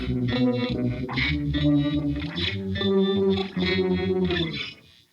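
Electric guitar through a Keeley Monterey Rotary Fuzz Vibe pedal set to high octave fuzz, playing a buzzy, swirling riff with bright upper-octave distortion and a wavering chorus-like shimmer, close and continuous before fading.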